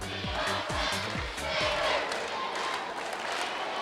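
High school volleyball crowd at a state championship match, a dense roar of voices with rhythmic stomping or clapping beats early on, steady and loud throughout, with talk mixed in.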